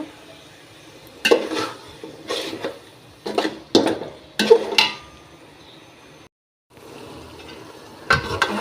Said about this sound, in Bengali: দেখুন চিকেনগুলো সুন্দর করে কষিয়ে নিচ্ছি